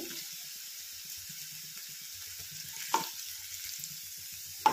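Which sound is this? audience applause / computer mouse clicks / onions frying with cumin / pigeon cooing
onions frying with cumin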